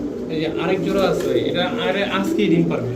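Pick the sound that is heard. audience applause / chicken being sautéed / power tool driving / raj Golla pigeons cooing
raj Golla pigeons cooing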